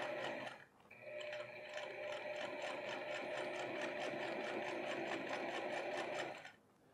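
A sewing machine stitches down a folded jeans hem in one steady, close, loud run of rapid needle strokes lasting several seconds, then stops.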